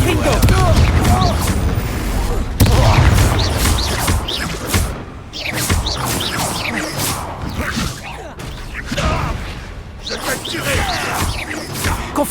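Confringo blasting spells in Hogwarts Legacy set off repeated loud explosive bursts and whooshes in quick succession, filling the scene with crashing blasts.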